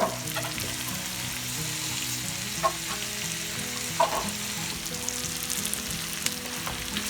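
Shrimp sizzle steadily in a hot pan, with steak already in it, for steak and shrimp fajitas. The frying is loud and continuous, and a few sharp clinks and stirring knocks rise above the crackle. No one speaks.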